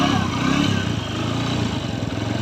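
A TVS Radeon BS6 motorcycle engine, freshly fitted with a new timing chain, revs steadily up close, with a smooth, even drone and no rattle, heard on its own.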